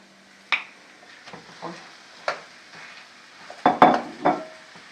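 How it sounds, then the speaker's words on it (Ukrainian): Minced meat added to onions in a frying pan, with scattered scraping knocks of a utensil stirring against the pan over a soft low sizzle; several sharp clatters cluster near the end, close and fairly quiet. "Додаємо до цибулі м'ясо. Перемелене м'ясо."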